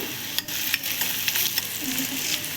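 Onions and green chillies fry in a pan with steady close sizzling and repeated stirring scrapes, the sound continuous and fairly loud with no voices.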